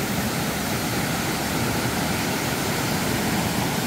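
A waterfall plunging more than ten metres into a deep pool in Pagju's Toegol valley near Seoul, joined by a side stream, roars as a steady, dense, loud wash of water with no voices.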